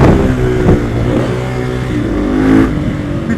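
A supermoto motorcycle engine revs hard through a wheelie out of the woods, a loud, rough, steady roar up close with a short surge near the end.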